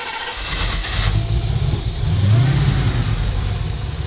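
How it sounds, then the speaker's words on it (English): A car engine fitted with a bigger throttle body runs at a rough, uneven idle, close and loud, its low droning rumble swelling and sagging unsteadily. "Yep, it idles about as bad as we expected."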